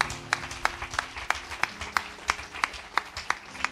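A church congregation claps in a slow, regular rhythm, sharp individual claps standing out about three times a second over a murmuring crowd and faint background tones.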